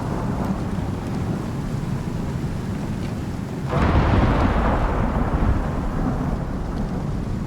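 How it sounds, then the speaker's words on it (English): Stormy night weather in the survival game Icarus: steady heavy rain hisses throughout while a deep rolling thunderclap swells up midway and slowly fades back into the downpour. "And so we have a stormy night."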